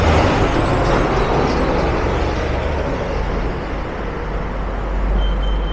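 A city bus on a Vancouver street, South Main near Riley Park, releasing a loud, sustained hiss of air brakes close by over steady traffic rumble, with no talking.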